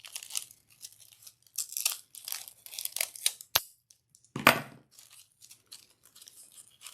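Scissors snip through ribbon for a homecoming garter in a string of short, crisp cuts and rustles, close-up and moderately loud, with one sharp click partway through.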